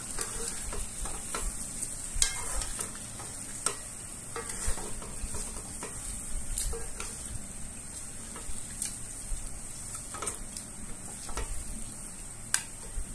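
Rendang stirred in a pan as turmeric sizzles, a constant close frying hiss broken by repeated ticks and scrapes of the spoon against the pan.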